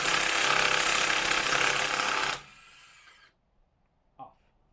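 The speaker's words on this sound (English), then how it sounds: "Impact socket, right? Goes on. It's gonna freak you out for a little bit" An impact wrench spins a lug nut off a 2015 Roush Mustang wheel in one loud, continuous buzzing burst that cuts off abruptly, followed by fading hum and a brief clink.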